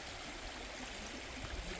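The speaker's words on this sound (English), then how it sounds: "It's been a while since I've seen this river flooding like this" A flooding creek rushes steadily, a dense, even broadband roar of flowing water heard from nearby with no breaks and no voices.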